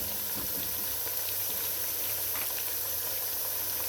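Tough, strong onions fry in a pot for Ghanaian jollof rice stew, giving a steady, even sizzle and crackle that runs unbroken for the whole stretch at moderate volume, with no voices.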